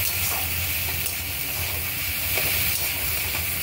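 Capsicum fries briefly in a pan for an Indian-style curry, giving a dense, unbroken sizzling hiss with a low rumble underneath and a few faint clicks.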